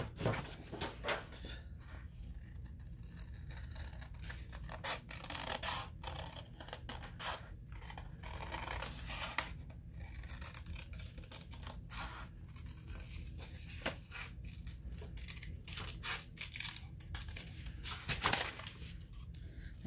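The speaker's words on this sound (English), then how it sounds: "Trace this outline, and then you cut this piece out." Scissors cutting out a paper holster pattern piece for an NAA Pug mini revolver: repeated crisp snips and paper rustling in irregular bursts, close and quiet, with a sharper crinkle near the end.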